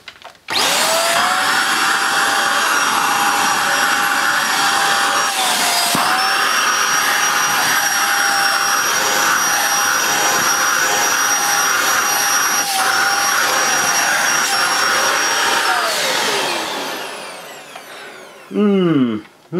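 A Hoover Jovis 550 watt corded handheld vacuum cleaner with its crevice tool fitted drones loudly and steadily for about sixteen seconds, then winds down, followed by a brief rustle.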